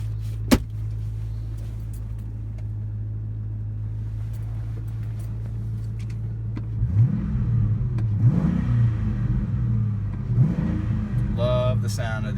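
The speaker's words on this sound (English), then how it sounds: "Love the sound of the engine. It sounds so good." A 2001 Ford Mustang Bullitt idles with a steady deep rumble, then its engine revs in several rising and falling bursts, close and strong, with a brief sound of someone speaking near the end.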